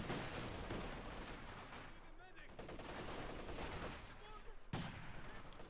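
Gunfire in a Company of Heroes 2 battle: dense, continuous bursts of machine-gun and rifle fire with distant explosions, a steady clattering fusillade under a commentator's voice.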